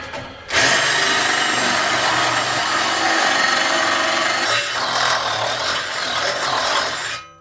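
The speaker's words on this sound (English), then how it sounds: "was drilling through that saw blade" A harsh, loud grinding whine of a drill press biting through a steel saw blade starts abruptly and holds steady for several seconds before tapering off.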